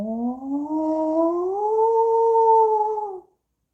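A human voice imitates a whale call, a single long rising and gently wavering tonal hoot held for about three seconds, close and clear, then cutting off into silence.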